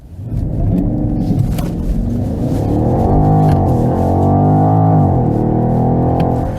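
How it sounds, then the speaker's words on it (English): A BMW X6 M50i with a V8 engine accelerates hard under full throttle, its deep engine note rising and dipping through gear changes in a loud, continuous roar from inside the car. "we can really also floor this engine out. This will be pretty amazing, and you can also listen to the V8 sound"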